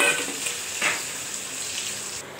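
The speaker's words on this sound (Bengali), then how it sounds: "এবার আলুটা ভেজে উঠিয়ে নেব" Potato pieces fry in hot oil, a steady close sizzle with a brief surge of crackle partway through, continuing evenly with no speech.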